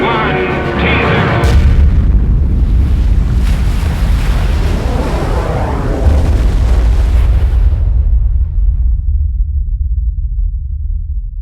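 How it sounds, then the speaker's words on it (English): A nuclear bomb test with a yield of ten million tons of TNT erupts as a loud, continuous roaring rumble with heavy low-frequency weight, sustained for several seconds before the high end drops away into a deep, fading rumble. "It explodes with a force of 10 million tons of TNT, 600 times more powerful than the bomb that destroyed Hiroshima."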